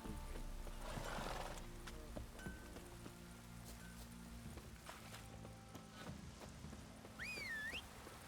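Roach the horse from The Witcher 3 neighs once loudly near the start, then hooves clop steadily alongside a game score and ambient bed, with a faint whinny-like tone rising late.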